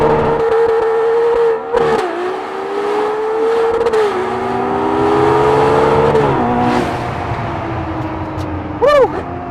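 Ferrari 812 Superfast with a naturally aspirated 6.5 litre V12, slightly uncorked, accelerating hard on a quiet country road, loud rising engine note climbing through several gear changes, with a brief excited shout near the end.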